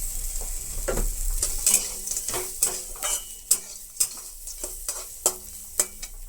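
Nuts frying in oil in a pan on the stove, with crisp sizzling and repeated sharp clicks of a spoon stirring against the pan, no talking.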